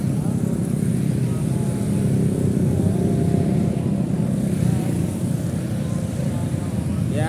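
Motorcycles of holiday travelers heading toward Merak stream past on the road near a bus terminal, a dense continuous engine roar close by with no clear gaps.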